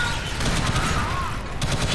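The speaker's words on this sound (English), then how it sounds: "God, quit shooting me." Rapid automatic gunfire from the video game Alien Swarm Reactive Drop rattles continuously and loudly in a dense, unbroken stream, with a faint electronic tone sweeping through it.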